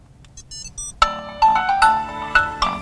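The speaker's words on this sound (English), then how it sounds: "And now my phone starts to ring." A phone ringtone set off from a Tile tracker plays a short melodic tune of several bright tones after a second of quiet, fairly close and clear with no talking.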